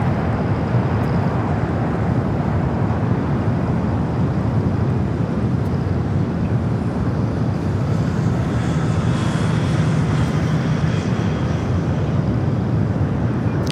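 A Hawaiian Airlines Airbus A321neo arrives at LAX on a diversion, giving a steady, loud broadband jet rumble that swells slightly toward the end. No voices are heard.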